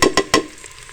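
Onions dropped into about half a cup of hot oil in a pressure cooker give three quick sharp bursts of sizzle and clatter in the first moments, then settle into a quieter, steady frying hiss.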